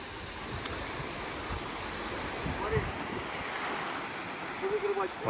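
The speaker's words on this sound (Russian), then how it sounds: "Дошли мы до моря." Sea surf rolling onto the sandy beach at Anapa on the Black Sea coast, a steady broad wash of waves with wind noise across the microphone, heard alone at moderate level.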